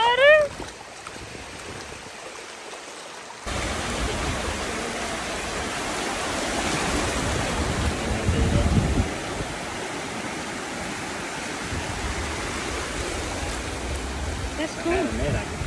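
Ocean surf at Fripp Island beach, South Carolina, makes a broad, continuous wash of breaking waves. It starts after a brief voice and a quiet pause, then stays loud and steady with a slight surge midway.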